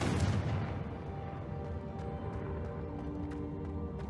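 A Confringo blasting spell from Hogwarts Legacy on PC hits with a sharp boom at the start, followed by a rumbling, fading blast tail and no talking.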